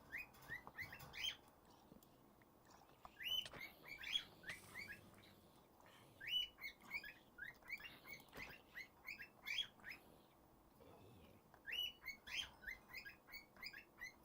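Bird chirping in a modded Minecraft game: repeated high tweets and short calls in irregular bursts throughout, over a low steady game background, with no talking.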